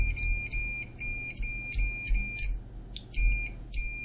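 A Fluke 789 process meter in continuity mode chirps in rapid, repeated high beeps, close and sharp, with a low rumble of handling underneath and no talking.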